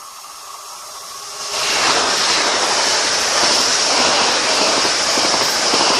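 A train passing Ashwell & Morden station, rising suddenly after about a second and a half into a loud, sustained broadband rush and roar that holds steady to the end, close by with no talk.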